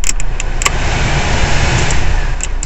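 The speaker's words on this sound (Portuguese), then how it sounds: "já liguei o motor do meu carro, vou ligar o ar condicionado, eu vou deixar no máximo." A Peugeot 206's engine runs at a steady, close idle, a continuous low hum with a few faint clicks over the top.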